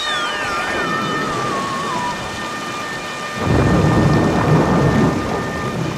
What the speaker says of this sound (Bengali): দেখলে তো কি জোরে বাজ পড়লো সঙ্গে সঙ্গে।